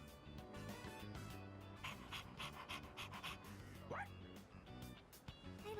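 Koromaru, a dog in the video game Persona 3 Reload, pants rapidly and gives a few yips and barks over steady game music, close and fairly loud throughout.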